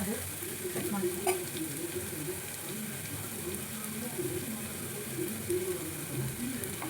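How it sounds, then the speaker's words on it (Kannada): Tomato frying with ginger-garlic paste in a pan for egg biryani, a steady low sizzle under intermittent stirring and scraping, with a voice talking faintly over it. "ಇವಾಗ ಟೊಮೊಟೊ ಹಾಕ್ಕೊತಾ ಇದ್ದೀನಿ. ಚೆನ್ನಾಗಿ ಫ್ರೈ ಆಗುತ್ತೆ."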